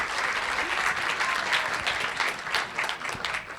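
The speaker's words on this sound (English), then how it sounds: "let's give our actors a round of applause." Audience applause for the actors at a panel event, a dense, steady clapping that fills the whole stretch without a break, with no speech over it.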